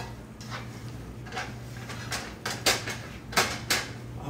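Burrito filling stirred in a pan: a run of scraping, clattering spoon strokes against the pan, growing louder and more irregular toward the end, over a steady low hum, with nobody talking.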